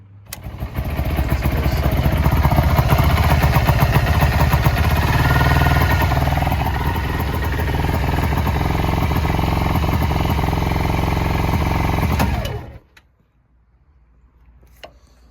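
A 2010 Kawasaki Ninja 250R with a clutch out of adjustment runs in gear, its engine note loud and steady at close range for about twelve seconds before cutting off abruptly into near silence.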